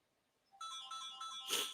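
Mobile phone ringtone starting abruptly after a brief silence, a bright electronic melody in short pulsing notes that swells louder toward the end, heard alone without talk.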